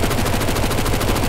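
Desert Eagle gunshots in a video game come as a loud, dense run of rapid shots with no gaps, close and filling the whole moment without any voices.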